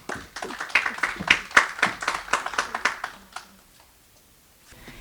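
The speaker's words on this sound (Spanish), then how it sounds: "el cual recibimos un fuerte aplauso, por favor" Dense applause from an audience at a constitutional law congress panel fills the first three seconds with loud, overlapping claps, then quickly thins and fades into quiet room tone.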